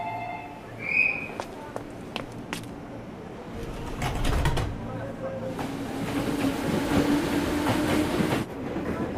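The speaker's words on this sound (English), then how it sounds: "This is my train." A train in an animated series rolls past on rails, with clickety-clack rhythm and rising rumble building through the middle and end, alongside scattered clanks and brief spoken voices.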